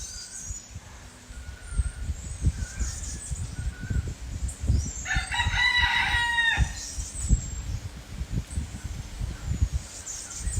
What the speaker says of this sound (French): Je tuerai pas le coq. Mais c'est vrai qu'il se rapproche.